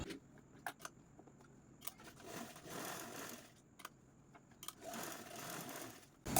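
A sewing machine stitches across the center of a petticoat's drawstring channel, its fast mechanical whirr running in two bursts with short pauses and small clicks between, close and fairly quiet.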